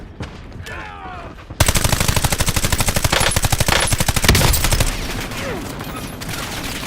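Rapid automatic gunfire from the video game Warzone bursts in loudly after a quieter opening, a dense sustained volley of close shots that holds for several seconds before easing into a softer background rumble.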